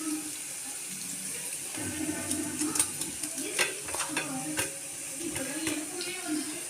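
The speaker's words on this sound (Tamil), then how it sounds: "பொரிச்சு எடுக்கல, அப்படியே சும்மா வறுக்கிறேன். எண்ணெயிலே வந்து வறுக்கிறது." Sliced plantains fry in shallow oil in a pan, a steady sizzle with repeated clinks and scrapes of a stirring spoon, close up, while a voice speaks faintly underneath.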